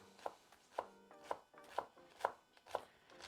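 A knife chops an onion on a board with six or seven evenly spaced, sharp thuds, close and clear, in quiet surroundings with no speech.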